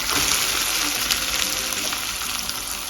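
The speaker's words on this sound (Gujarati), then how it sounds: "તેલમાં સતળાવી લેવાના આવી રીતે. ને પછી આપણે એમાં મૂકવાનું છે કોબી." Cabbage for a cabbage and potato curry sautés in hot oil with turmeric, giving a loud, steady, close sizzle with faint stirring.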